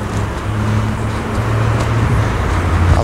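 Steady flow of city street traffic in Tampere, Finland, a continuous close wash of car engines and tyre noise with a low rumbling motor drone throughout, no voices.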